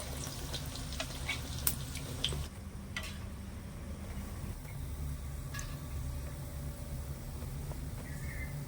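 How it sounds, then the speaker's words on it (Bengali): Tirkut sweets made from wheat flour fry in hot oil with a faint, steady sizzle and scattered small pops and clicks, heard close and alone. "এবার আমি আঁচটা বাড়িয়ে একটু লাল করে ভেজে নেব"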